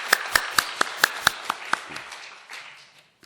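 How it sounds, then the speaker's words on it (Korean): A church congregation applauds its choir and a violinist after a hymn: a run of sharp, evenly spaced claps that thins out and fades after a couple of seconds. "박수로 한번 격려하겠습니다"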